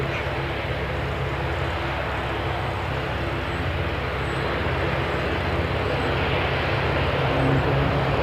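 An ATR turboprop airliner at Christchurch airport, a loud steady propeller and engine drone that holds evenly for several seconds and swells slightly toward the end.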